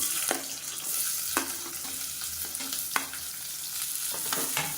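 Halved small shallot onions sautéing in hot oil for chicken varuval, a continuous close sizzle broken by sharp clacks of a spoon stirring against the pan.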